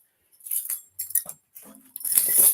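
A black dog wearing jangling tags or a light moves around, with bursts of metallic jingling and rustling, close and in short spurts.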